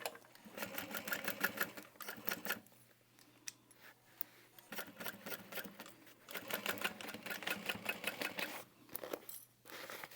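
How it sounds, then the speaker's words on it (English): A sewing machine stitches the lining of a bucket bag in several rapid rhythmic bursts separated by short pauses, close and clear. "We'll sew it in this direction and kind of smoosh the rest of the bag out of the way."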